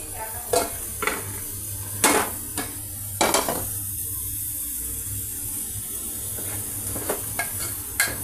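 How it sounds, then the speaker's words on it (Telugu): Spices tempering in hot oil in a pan for a tota kura (amaranth leaf) dal give a steady broad sizzle, broken by several sharp clinks and scrapes of a spoon against the pan, close and alone with no talk. "తర్వాత పోపు పెట్టేసేటేమేనండి"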